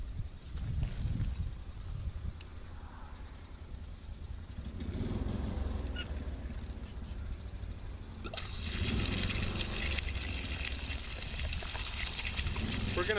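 Water rushing from a tap through a private well system during chlorine disinfection, a continuous hissing flow that swells louder partway through, with no speech.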